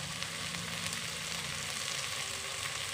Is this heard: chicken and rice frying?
yes